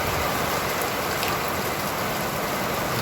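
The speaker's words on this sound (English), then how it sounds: "Sometimes the rain is beating in." Rain pours down on a busy street on a wet afternoon, a dense, constant hiss of drops on the surface with no voices.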